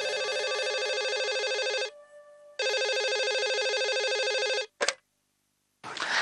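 A telephone rings in long electronic bursts, each a rapid buzzing trill lasting about two seconds, separated by brief pauses, loud and close with no talking.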